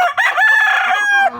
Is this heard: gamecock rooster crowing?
yes